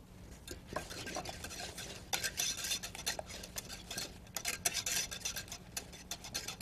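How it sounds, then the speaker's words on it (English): Steady scraping and tapping of a whisk stirring sour cream into canned cream soup in a bowl, a quick close rhythm of light metallic clicks running throughout with no talking. "So I just want to whisk those two together."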